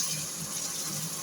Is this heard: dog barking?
no